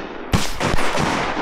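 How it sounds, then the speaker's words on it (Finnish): Shotgun shots ring out during a duck hunt: a loud sharp blast followed by a second report, echoing over open ground with steady background noise. "Minä se ammuin 2 kertaa"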